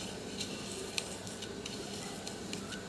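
Garlic fries in a pan while being stirred, giving a continuous soft sizzle with a few light ticks of the utensil against the pan.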